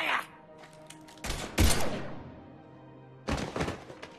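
Gunfire and impacts in the Mass Effect 3 video game come as loud, close bursts of heavy thuds and crackling shots in two main clusters, with brief quieter gaps between them.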